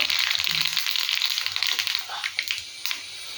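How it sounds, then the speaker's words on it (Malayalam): Mustard seeds crackle and pop in hot oil for a Kerala papaya stir-fry, a dense bright spattering hiss at first that thins into scattered sharper pops, close and fairly loud. "കടുക് പൊട്ടുന്നു."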